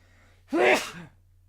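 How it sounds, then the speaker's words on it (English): A single sneeze indoors, a short sharp burst with a voiced onset, moderately close and alone against a quiet background. "I'm about to sneeze."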